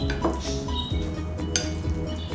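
Beef being mixed with cornflour, baking soda, dark soy sauce and pepper in a bowl, heard as close clinking and scraping of utensils against the dish in a steady rhythm with no talk.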